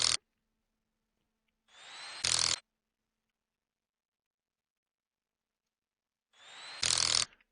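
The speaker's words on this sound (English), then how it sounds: "So go ahead and tighten those down." Two bursts from a power tool tightening bolts in the car mechanic game Wrench, each a short ramp-up whir ending in a loud rattling impact, separated by silence.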